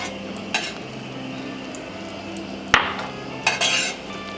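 Thick shoyu sauce simmers in a pot on the stove, a steady low bubbling hiss with a few sharp clinks of a utensil against the pot, close and alone.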